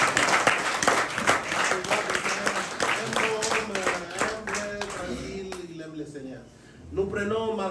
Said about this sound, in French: Applaudissez pour votre pasteur.